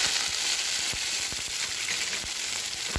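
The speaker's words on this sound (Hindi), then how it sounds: "इसके मैं थोड़ा 1/2 टीस्पून ज़ीरा डालूँगी। ये अच्छे से तड़तड़ाने लगे" Half a teaspoon of cumin seeds crackling in hot oil in a pan: a steady close sizzle with many sharp pops scattered irregularly throughout, no talking.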